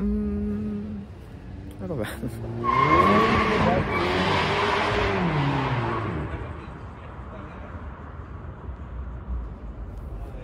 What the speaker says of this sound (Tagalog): Nagmamadali yung kotse or baka flat siya. Kasi malakas yung tunog ng gulong.